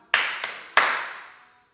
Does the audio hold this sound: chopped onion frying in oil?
no